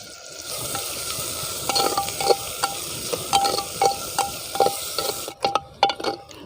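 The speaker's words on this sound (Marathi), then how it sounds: "त्यात आता कांदा घालून घेते चांगला भाजून घ्यायचा कांदा" Chopped onion fries in oil in a clay pot, a steady broadband sizzle with repeated sharp scrapes and clinks of a spoon stirring against the pot's sides, ending in a few quicker taps.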